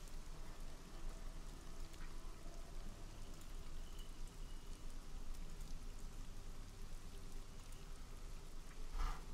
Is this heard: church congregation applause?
no